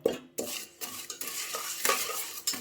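Jaggery being stirred in a pan while making arisalu, a spoon scraping and clattering against the metal in a quick, irregular rhythm with a faint sizzle underneath, close and alone.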